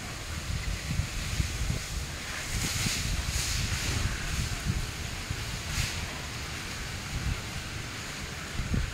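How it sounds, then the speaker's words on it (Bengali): Hot, dry gusty wind blows steadily across an outdoor microphone, a continuous broadband rush with rustling surges and buffeting bursts throughout, no voices. "এই যে ঝোড়ো হাওয়াটা দিচ্ছে, আনফর্চুনেটলি এই হাওয়াটা হচ্ছে গরম খড়খড়ে হাওয়া"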